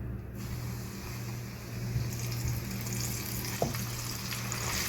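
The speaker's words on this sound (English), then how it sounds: "I'm gonna put it in the frying pan" Flour-dusted chicken fries in a frying pan on a stove at medium heat, giving a soft, steady sizzle with a faint hum beneath and an occasional small pop.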